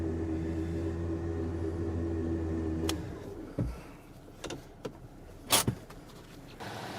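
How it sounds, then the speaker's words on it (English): A 12,000 lb OPENROAD electric winch on a Jeep pulls rope onto its drum with a steady motor whine for about three seconds, then stops, leaving scattered knocks, clicks and a couple of sharp metallic bangs. "she's spooling up perfectly"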